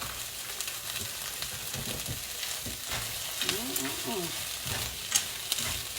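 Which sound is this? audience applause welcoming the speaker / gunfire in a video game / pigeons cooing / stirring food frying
stirring food frying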